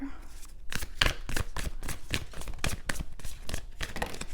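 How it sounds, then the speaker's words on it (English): Tarot cards are shuffled in quick, repeated riffling bursts, close and crisp, forming a steady rhythmic flutter that continues throughout. "When I was shuffling the cards"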